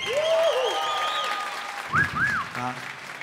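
Concert crowd applauding a band member at a show, continuous moderate clapping mixed with sliding instrument or feedback tones, staying fairly even throughout.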